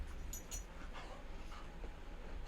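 A dog whimpers and gives faint, high whines with small yips over a steady low background hum, quiet and somewhat distant, with no speech.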